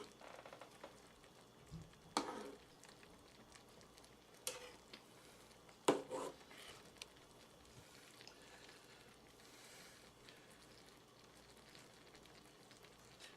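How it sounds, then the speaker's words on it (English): Homemade three-meat chili simmers in a skillet, a faint soft bubbling and sizzle broken by a few louder scraping strokes of a spoon as it is stirred, quiet and close with no talk. "You just continue to stir this and let this cook down."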